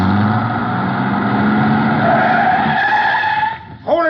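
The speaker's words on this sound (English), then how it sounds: "He turned over the engine and switched on the lights before I could get clear." A truck engine turns over and revs in a radio-drama scene, a loud, steady mechanical drone that holds for several seconds before a brief rising sweep as the vehicle pulls away.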